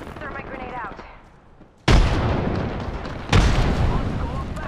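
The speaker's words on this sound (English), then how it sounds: "Throw my grenade out." In Apex Legends, a grenade blasts with a sharp loud boom followed by rumbling gunfire, then a second heavy explosion hits moments later, both after a quieter stretch of game effects.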